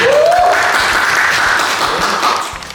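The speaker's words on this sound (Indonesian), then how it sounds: "Coba tepuk tangan untuk kali kita" An audience claps loudly and steadily at a coding event, the applause carrying on without break and easing off slightly toward the end.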